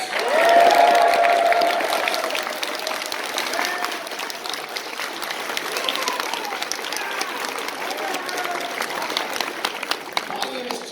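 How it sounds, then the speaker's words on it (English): A large convention-panel audience at a fan expo claps loudly and continuously, with a few cheers early on, the applause holding steady before thinning slightly. "Please give yourselves a round of applause."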